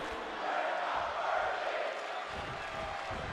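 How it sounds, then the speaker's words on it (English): Arena crowd chanting during a wrestling match in the WWE 2K23 video game, a broad, steady roar of many voices held at moderate loudness throughout, with no commentary over it. "The crowd chanting, "We're not worthy.""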